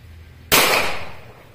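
A single sharp shot from an antique .22 Tranter's Patent single-shot pistol, a loud sudden crack close by with a short ringing decay.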